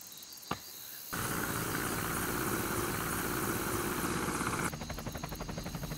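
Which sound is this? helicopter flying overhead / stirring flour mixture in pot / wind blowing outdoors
helicopter flying overhead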